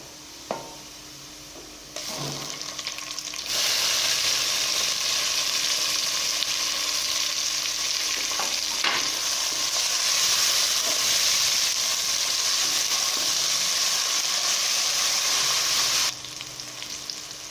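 Loud, continuous sizzling of onions, ginger-garlic paste and tomatoes frying in a hot pan for brain masala, with occasional stirring knocks, running steadily before dropping back at the end.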